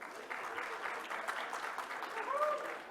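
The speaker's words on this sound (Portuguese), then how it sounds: "Uma salva de palmas à Marina." Auditorium audience applauding an invited university professor at a morning session of a public forum, a steady, even wash of many hands clapping at moderate level throughout, with no voices above it.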